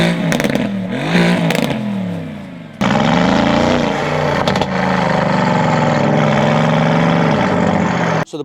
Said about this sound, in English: It's a stage 2 with decat, full race exhaust. So it's quite aggressive sounding